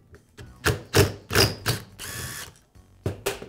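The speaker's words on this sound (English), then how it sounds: "and then I can remove the screw." Removing a screw from the crankshaft of a Milwaukee reciprocating saw with a screwdriver wedged between counterweight and connecting rod, heard as close, irregular metallic clicks and grinding turns with a brief scraping rasp partway through.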